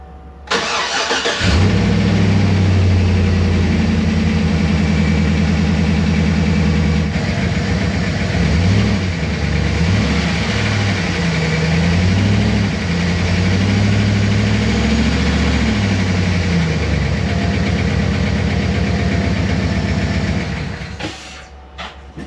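A pickup truck engine starts up and settles into a steady idle, its low rumble wavering slightly, with a faint rapid ticking from a worsening engine tick running underneath before it shuts off.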